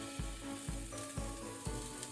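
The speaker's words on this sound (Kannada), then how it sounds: "ಲೈಟ್ ಕೆಂಪಾಗೋ ತನಕ ಲೋ ಹೀಟಲ್ಲಿ ನಾವು ಫ್ರೈ ಮಾಡಬೇಕು" Onion and garlic fry in a little oil in a pan over low heat for a crab curry, giving a continuous close sizzle with soft rhythmic stirring thumps about every half second.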